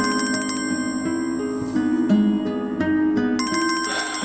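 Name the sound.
phone ringtone of an incoming call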